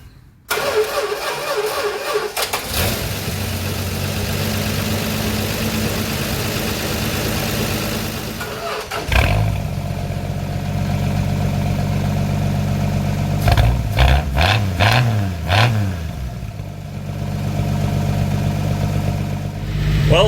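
A 1974 Dodge D100 pickup cranks and catches, then settles into a steady, rumbling idle with a brief rev partway through, loud and close with no talk.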